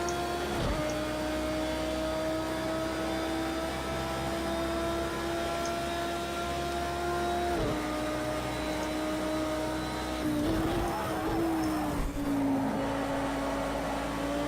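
Steady, continuous drone of a GT3 race car engine in a racing video game at Road America, holding a sustained pitch with brief dips around shifts or braking points, heard alone with no talk.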